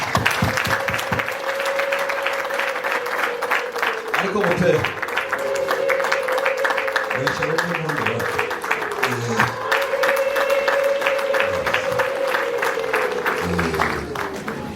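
Wedding guests applaud in a continuous wash of clapping throughout, while someone speaks over the crowd and a sustained tone hums beneath.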